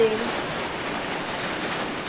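Steady rain hisses as a broad, even wash of noise, close and constant, with a brief faint tone at the very start.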